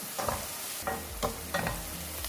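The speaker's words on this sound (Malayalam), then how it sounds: "ഇനി ഈ പച്ചമുളക് ഇഞ്ചിയും വെളുത്തുള്ളി എല്ലാം നന്നായിട്ടൊന്ന് മൂത്ത് വരണം കരിഞ്ഞു പോകാതെ മൂപ്പിച്ചെടുക്കണം" Chopped green chillies, ginger and garlic sizzle in hot oil in a pan, with a constant close frying hiss broken by several rhythmic scrapes as a spoon stirs them.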